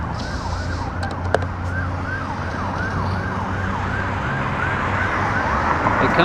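An emergency vehicle siren wails in a rapid repeating up-down sweep over steady road and traffic noise, heard from a bicycle on a city commute, loud and slowly growing nearer.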